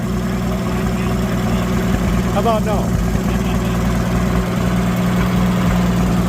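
A diesel WD-45 tractor engine, weighted down with fluid-filled tires, runs at a steady low idle throughout, its even rumble continuing under nearby talking.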